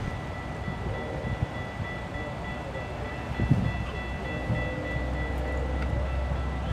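Low, steady rumble of a GO Transit commuter train rolling slowly past a crossing at Kirby under a speed restriction, with faint rail clatter and a thin tonal whine, continuous and fairly close, no talking.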